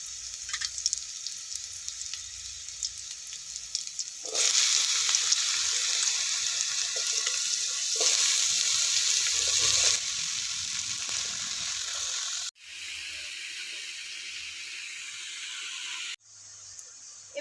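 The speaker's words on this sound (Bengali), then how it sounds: "আর চারটে কাঁচা লঙ্কা ফোড়নটা ভেজে নিয়েছি এবার লাউগুলো দিয়ে দিচ্ছি" Bottle gourd tipped into hot oil with fried green chillies, setting off a loud, steady hiss and sizzle close by that dips briefly as the pan is handled.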